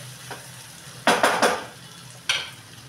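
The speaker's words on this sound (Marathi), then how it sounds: "त्याच्यामध्ये मेथी घालायची आणि चांगलं परतून घ्यायचं" Fenugreek leaves sautéed with red chili powder in a pan: a quick cluster of three scraping, sizzling stirs, then a single stir a moment later, moderately loud and close, with no talking.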